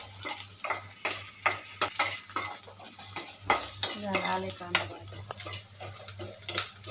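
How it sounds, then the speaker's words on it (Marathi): Onion sautés in a pan for an egg curry, stirred with a utensil in rhythmic scraping and clinking strokes over a low sizzle, with a steady hum beneath and a faint voice in the background. "ते परतून घेतो आपण कांदा"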